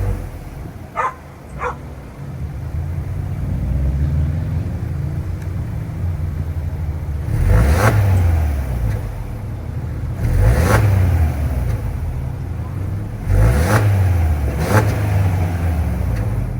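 The 2025 Subaru Forester's retuned 2.5 liter Boxer four-cylinder idles, then gets revved in three or four short, rising bursts that drop back to idle, recorded up close with no talking.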